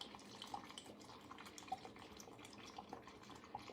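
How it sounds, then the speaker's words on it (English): Water is poured onto coffee grounds to make cold brew, a soft, steady trickle and splash that runs faintly and evenly throughout with no voices. "all you do after that is add your water"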